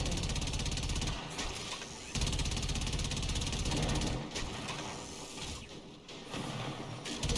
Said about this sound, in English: I'm wildly swinging a giant hammer.